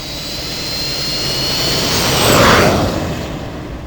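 A rocket engine roars in the retro computer game Gus Goes to the Kooky Carnival, a steady loud whoosh of thrust that swells toward the middle and then eases off.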